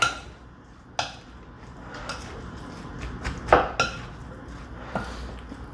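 Cucumber, tomato and dill salad tossed in a bowl, with a few scattered clinks and scrapes of utensil against the dish over a quiet background, one louder knock near the middle.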